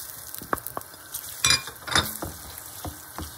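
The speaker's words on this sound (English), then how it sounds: "I can see that my coconut cream is melted, so I'm adding my onions" Onions frying in melted coconut cream for Christmas waakye, a soft steady sizzle with a few sharp clinks and scrapes of a spoon against the pot, no talking.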